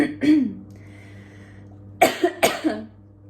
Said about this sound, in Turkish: Ben öksürüyorum.